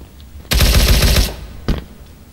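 A video game gun fires a quick run of about half a dozen rapid shots in one loud burst, followed after a short pause by a single further report, with no voices.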